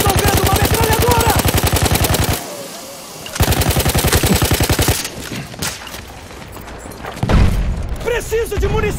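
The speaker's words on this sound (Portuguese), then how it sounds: "Inimigo! Estou vendo uma metralhadora!" Enemy machine gun in Battlefield 1 hammering out loud, rapid sustained bursts, a brief pause, then another long burst, followed by booms and scattered shots, with voices shouting amid the combat.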